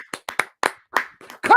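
A few sharp hand claps in an uneven rhythm, close and fairly loud, with a voice breaking in at the end.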